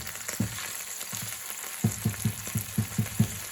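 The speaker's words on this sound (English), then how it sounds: "Look at that, that's a big piece of steak. Nice. I'll let that cook there for a bit." A big flat iron steak frying in a pan, a steady sizzling hiss with a series of low rhythmic thumps repeating through the second half.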